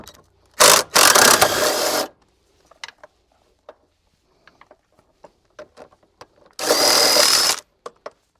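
Power tool bursts while removing bolts from a Mini Cooper S engine: one short loud whir, then a longer sustained run, a spell of small clicks and taps, and a second long burst, close up.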